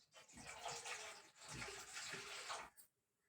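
Water pours into a cooking pan on a stove, a close, steady gush with a brief pause midway before pouring resumes and then stops, with no voices.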